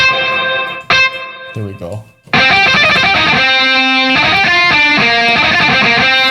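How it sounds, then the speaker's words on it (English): Guitar played through Line 6 POD Farm amp and cabinet modeling with reverb switched on, sustained chords and picked notes ringing out loud and washy after a brief spoken moment at the start. "I'm going to turn on a reverb though."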